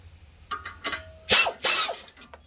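An impact gun works on an 18 mm nut on a car's ball joint, giving two loud, short hammering bursts after a few small metallic clicks and clinks. Quiet background noise fills the gaps between them.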